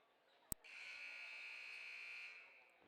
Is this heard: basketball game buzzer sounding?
yes